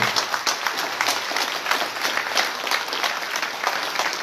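An audience applauds itself at a public event in Saint-Étienne-du-Rouvray, producing dense, sustained clapping from a crowd that holds steady and fairly loud throughout.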